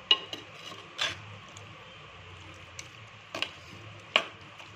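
A spoon stirring chicken curry topped with cilantro in a pan, giving a few separate scraping clinks against the metal over a soft, quiet background.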